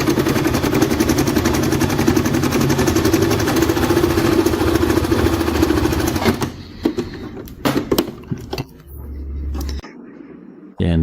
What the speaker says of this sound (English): Now we are going to test it by sewing on fabric.